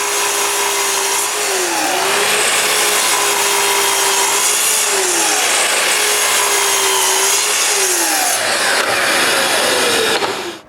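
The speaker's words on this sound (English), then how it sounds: "so I cut several pieces from that strip" A power saw cuts several pieces from a wooden strip, its loud, bright whine holding steady then dipping in pitch as each cut bites, repeated in a close, continuous run with no talking.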